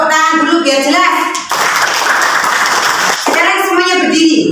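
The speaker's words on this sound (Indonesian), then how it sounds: "Tepuk tangan dulu biar jelas." A class of students claps hands in unison in a school lesson, a loud rapid burst of rhythmic clapping in the middle, between stretches of a teacher and children talking.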